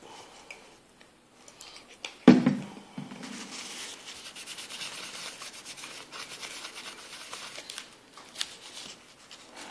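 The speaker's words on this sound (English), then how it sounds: "Kitchen towel with a bit of rubbing alcohol." Kitchen towel wetted with rubbing alcohol wipes the parts of an HP ProBook laptop. A sharp knock is followed by a long, steady, faint rubbing and scrubbing sound heard up close.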